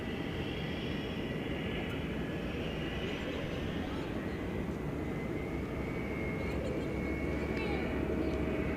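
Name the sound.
tri-jet airliner taxiing at DFW Airport at night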